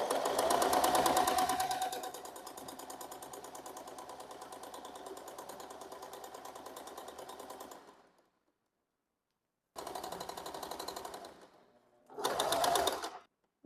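Domestic sewing machine stitching fabric with a rapid, steady mechanical whir that runs continuously, stops, then resumes in two shorter bursts, close and moderately loud.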